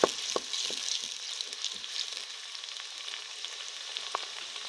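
White beans with garlic, onion and chili are stirred in a hot pot, giving a soft, steady sizzle broken by a few sharp scraping knocks of the spoon, close by and with no voices.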